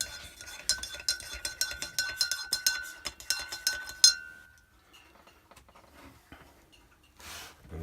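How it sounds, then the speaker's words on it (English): Metal spoon clinking rhythmically against a coffee cup while stirring freshly brewed coffee from an off-grid pod-style coffee maker, a quick run of close, bright taps that stops abruptly, followed by quiet handling. "give it a stir."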